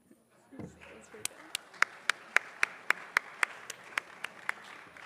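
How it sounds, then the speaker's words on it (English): A few people clap slowly and sparsely, about a dozen distinct claps in an even rhythm, thin and faint against room noise. "That was very weak applause, not a fan favorite"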